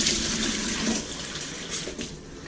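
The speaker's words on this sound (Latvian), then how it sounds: "Un tagad es viņu zem krāna vēl kārtīgi noskalošu." A newly bought Bulbophyllum longiflorum orchid is rinsed under a running kitchen tap, with a steady, close, loud gush of splashing water that shifts slightly as the plant moves in the stream, and no talking.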